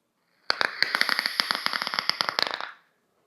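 LVE Orion 2 RBA vape atomizer coil firing, a quick burst of dense, sharp crackles and pops lasting about two seconds, close and fairly loud, with no talking.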